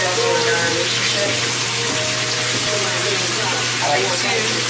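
Shower water runs steadily and loudly, a dense continuous hiss with a faint low hum underneath and no talking.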